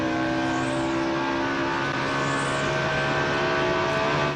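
A NASCAR stock car on track during practice for the 2003 Southern 500 accelerates at full throttle, its engine holding a loud, sustained high-pitched roar that climbs slightly in pitch, with passing whooshes sweeping across.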